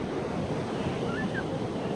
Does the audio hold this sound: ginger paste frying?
no